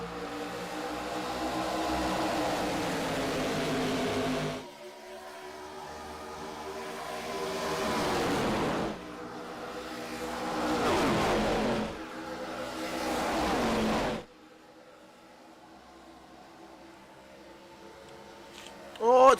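Race cars roar around Talladega Superspeedway in a racing video game, a loud droning engine pack that swells and cuts off in surges under a commentator's continuous talk.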